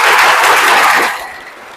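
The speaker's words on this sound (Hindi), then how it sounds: "1 सेकंड में ऐसी ताली बजाओ कि पूरे भूलिया को बजा दे" Audience applause at an exam-preparation talk, a dense burst of many hands clapping loudly at once before fading off after about a second.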